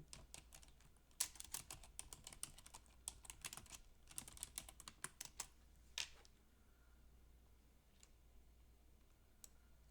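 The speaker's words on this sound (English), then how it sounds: "I'm gonna type that up too" Quiet, close typing on a computer keyboard, with quick irregular bursts of key clicks that thin out to a few isolated taps.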